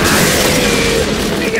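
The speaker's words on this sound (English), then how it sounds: "It's amazing how many of life's problems are solved by indiscriminate cannon fire." Cannon fire in a pirate adventure game, a dense rumbling boom with mechanical clatter that fills the whole short stretch at high loudness, with no clear pauses between blasts.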